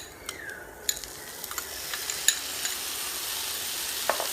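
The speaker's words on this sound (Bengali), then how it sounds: "সবগুলো উপকরণ ভালোভাবে নেড়ে মিশিয়ে নিচ্ছি।" Broccoli and chopped tomato are stirred in a pan, with a quiet sizzling hiss and scattered light scrapes and taps of the utensil, no voices.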